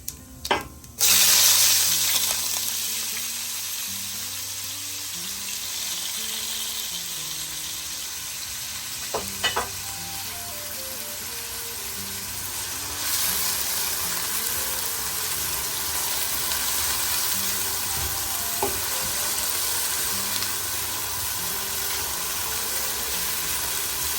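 Chopped onions fry in hot oil with whole cumin seeds, producing a continuous sizzle over a long stretch, with occasional utensil clicks and a tonal melody running underneath.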